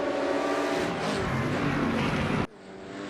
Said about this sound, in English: they are catching the 3rd place car of Dean Reimers